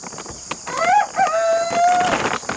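Young roosters in their coop: one crows close by in a drawn-out call, with scattered clucks around it and a steady high hiss in the background.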